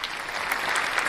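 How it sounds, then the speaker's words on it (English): Brief burst of audience applause, dense steady clapping from a crowd at an event celebrating Maryland's first Black-owned winery. "let me get a round of applause for you guys."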